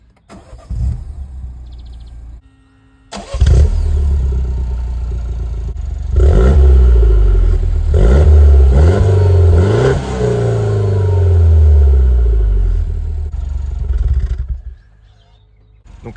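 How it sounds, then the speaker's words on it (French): A Peugeot 208 GTI engine cranks and catches, then revs loudly several times in rising and falling surges before settling and cutting out, close by. "On va la démarrer pour voir la modification."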